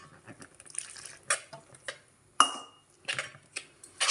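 Batter for ajwain leaf bajji being stirred in a bowl, giving soft scraping swishes and occasional sharp clinks of a utensil against the dish, uneven in rhythm and fairly close, with no talking.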